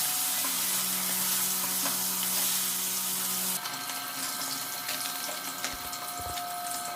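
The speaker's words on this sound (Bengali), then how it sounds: "মাছটাতে নুন হলুদ মাখিয়ে নিলাম, তেলে ভেজে নিলাম এক এক করে।" Salt-and-turmeric-coated fresh pond fish frying in hot oil, a steady close sizzle for the first half that turns into brighter, crackling spatter with a few low thumps from the pan, no voices.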